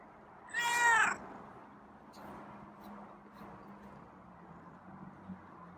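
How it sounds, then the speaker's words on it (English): Feral cat letting out a single loud, drawn-out meow near the start, followed by quiet room ambience with faint low rumble and occasional small noises. "I'm not sure if the meow means he wants food or he wants me to pet him"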